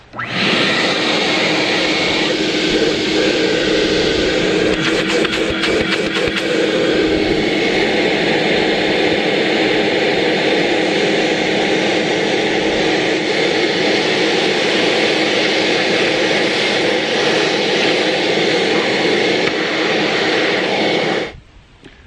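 A Ridgid Pro Pac 5.0 HP wet/dry shop vac runs with a loud, steady roaring whine of suction, holding constant for about twenty seconds before cutting off abruptly at the end, with no talking.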